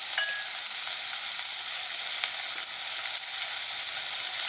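Lemongrass and pork frying in a pan for a Thai pork and potato coconut curry, a dense, steady hiss of sizzling oil with faint stirring scrapes, close and continuous with no talk.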